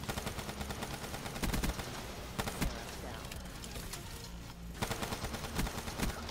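Bursts of rapid automatic gunfire from the video game Black Ops 3 come in quick, dense volleys with short gaps, steady and moderately loud, under a player's excited talk.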